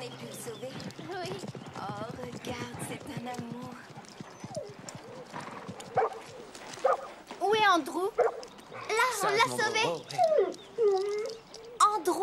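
In an animated horse-riding series, a dog barks and whimpers in short bursts, mixed with clip-clopping hooves, horse snorts and several people talking.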